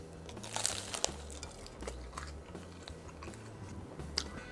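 Hot, crispy pepperoni phyllo dough bites are bitten and chewed up close, with crunchy bites followed by steady, moist chewing and no talking.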